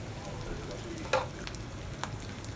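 Sesame seeds dropped into hot ghee in a pan, a soft steady sizzle with a short sharp crackle burst and a lighter tap a moment later, fairly quiet.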